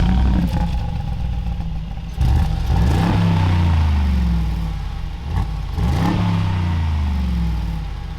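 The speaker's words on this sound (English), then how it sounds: "You can have the BRABUS valve-controlled exhaust, which this car has" A deep, steady exhaust burble from an idling Brabus B40-700 Mercedes G63 SUV with valve-controlled exhaust in quiet mode, with a few short throttle blips rising and falling; fairly loud and close, no voices.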